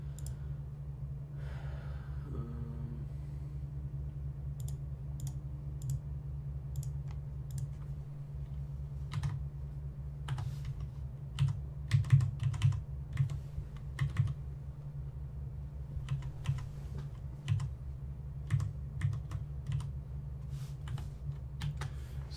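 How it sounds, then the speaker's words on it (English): A computer keyboard is typed on close by in a quiet room, with irregular bursts of sharp clicking keystrokes over a low steady hum and a breath or sigh, and no one speaking. "I'm going back to the keyboard. I know it's noisier, but it's easier to use than a controller."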